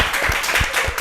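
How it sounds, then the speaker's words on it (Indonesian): An audience applauds steadily at a student creativity event at an Indonesian Islamic high school, the dense clapping continuous and fairly loud throughout the short stretch. "Tepuk tangan dong, ya."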